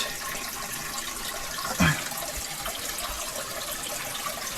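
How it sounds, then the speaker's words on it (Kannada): Water flowing continuously inside a cave at Antaragange, a steady faint trickling wash with one brief louder splash or knock partway through, no voices. "24 hours ಬರ್ತಾನೆ ಇರುತ್ತೆ ನೀರು"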